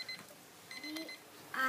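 An alarm clock rings in short, bright electronic beeps, faint and a little distant, in a few brief bursts with quiet gaps between them.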